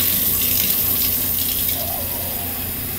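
Warm tap water runs steadily and loudly into a container, a continuous splashing gush that eases off slightly toward the end.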